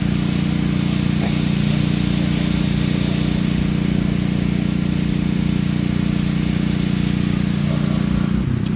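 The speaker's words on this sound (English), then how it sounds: "It looks like the Thousand Trails employees are power washing the mini golf." A pressure washer cleans a mini golf course nearby, giving a loud, steady mechanical roar with a strong low hum that runs unbroken throughout, with no talk over it.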